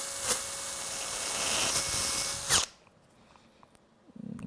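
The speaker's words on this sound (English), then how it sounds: "So with that 1/8 drill bit, we'll line it up." A loud power drill with a 1/8-inch bit drilling polycarbonate whines steadily for a couple of seconds, then abruptly stops, leaving a quiet room with faint handling noises.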